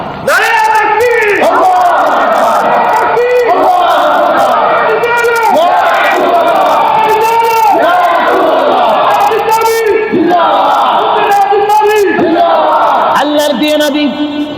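A large crowd at a religious gathering loudly chants takbir in unison, repeated rhythmic call-and-response shouts rising and falling at high volume for the whole stretch.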